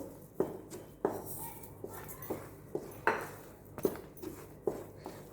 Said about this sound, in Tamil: அந்த ரவை சர்க்கரையோடு சேர்ந்து கிளறி விடும் போது நல்லா இலகி வரும்